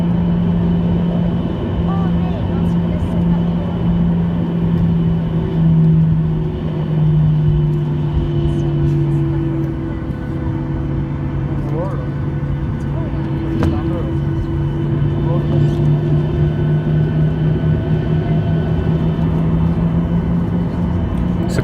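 Steady low engine rumble of a Norwegian Boeing 737-8JP taxiing toward the runway, heard from a window seat inside the cabin, a constant droning hum with no breaks.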